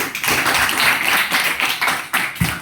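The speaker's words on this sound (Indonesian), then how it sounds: "tepuk tangan dulu untuk kita semua" A classroom of students claps hands together during a maths lesson, a dense burst of clapping filling the room without any talking.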